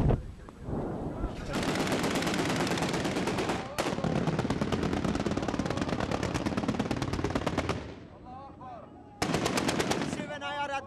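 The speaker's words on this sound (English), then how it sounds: "This is where actual firing is taking place. The grads are firing. This is a multi-barrel rocket launcher." Rapid, sustained bursts of automatic gunfire and multi-barrel Grad rocket launcher fire in a Libyan battle zone, loud and continuous with brief pauses between long volleys.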